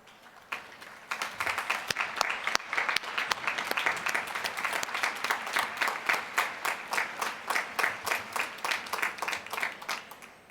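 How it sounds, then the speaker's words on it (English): A large commencement audience gives a sustained round of applause for the 2021 award winners, dense clapping that continues steadily for about ten seconds at moderate distance, with no speech over it. "We ask that all 2021 award winners briefly stand for a round of applause."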